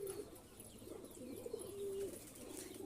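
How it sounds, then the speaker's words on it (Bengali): A grizzle pigeon coos close by in a loft, giving a few soft, low, throaty rolling calls in a short series over faint background noise. "এখন গ্রিজেল ডাকতেছে অনেক।"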